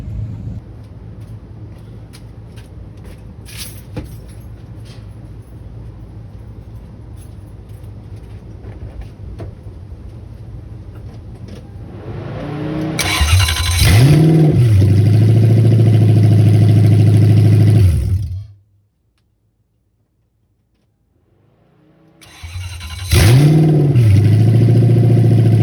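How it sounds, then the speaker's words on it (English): After a low steady hum, a Lexus LS400 with a freshly installed manual transmission cranks and starts, runs loudly for several seconds, shuts off to silence, then starts again at close range. "I'm gonna go ahead and start it up just to give it a quick trial, see that the starter engages fully and that the engine turns over."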